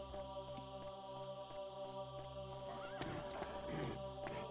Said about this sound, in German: Irgendwo war ein Pferd?